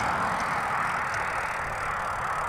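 Bicycle tyre rubber rolling fast on a tarmac city road, a steady, continuous broadband hiss and roar with no pauses, close and fairly even in loudness throughout.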